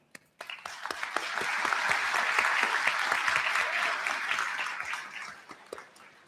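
A commencement audience applauds graduates of a school of health sciences, a full sustained burst of many hands clapping that swells quickly, holds steady for several seconds and then tapers off near the end.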